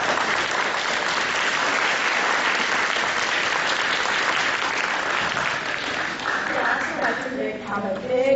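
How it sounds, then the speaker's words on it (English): An audience at a spring school concert applauds steadily and loudly for several seconds, a dense wash of clapping that tapers near the end as a voice comes in. "So I'd like to give a hand to those students."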